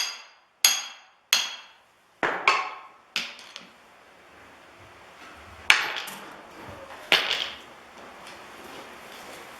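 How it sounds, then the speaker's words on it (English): Several sharp metallic hammer strikes ring out one after another on hot metal while forging a rounding hammer, each decaying quickly, with a pause before a few more spaced blows; no talking. "Make sure that you drift and forge each side of the hammer"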